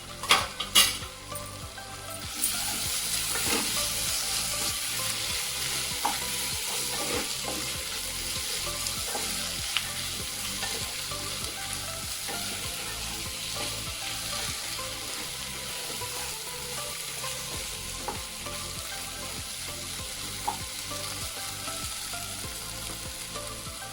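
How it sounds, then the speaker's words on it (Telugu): Cinnamon, cardamom, cloves and ginger-garlic paste frying in a pan for an aloo peas curry, a steady close sizzle with occasional stirring clinks after a few sharp knocks at the start. "అలాగే మసాలా, దాల్చిన చెక్క, యాలకులు, లవంగ మొగ్గ, పచ్చి మసాలా వేస్తున్నానండి కొంచెం లైట్గా"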